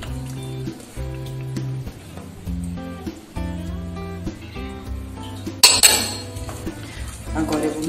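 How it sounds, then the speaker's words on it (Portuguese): A spoon stirring condensed milk, cream and cookie filling in a metal pot, with repeated clinks and scrapes of metal on metal, then a sharper clatter partway through, over faint background music. "Agora eu vou mexer aqui até dar o ponto"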